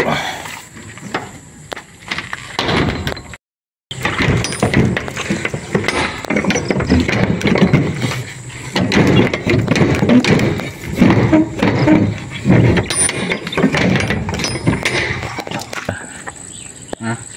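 A wing van truck's door is shut after unloading, with dense rattling, ratcheting metal clatter and knocks continuing for many seconds close by, with a short gap partway through.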